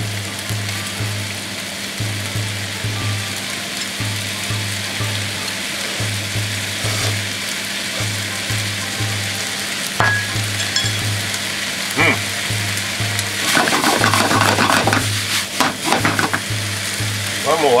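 Sauce yakisoba frying on a griddle sizzles loudly and continuously under a steady low rhythmic hum, with metal spatula scrapes and clinks toward the end.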